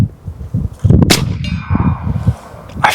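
Single sharp report of an airgun firing a lightweight 3D-printed sabot round downrange, heard around the middle of a noisy outdoor background, with a second faint crack near the end.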